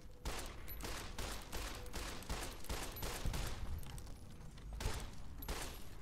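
Rapid bursts of gunfire from Fallout: New Vegas crackle in a dense, continuous volley for several seconds with no talking.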